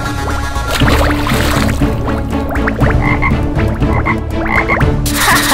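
Cartoon frogs croaking in a children's storytime animation, loud repeated throaty croaks in a quick rhythm over a dense bed of music and effects.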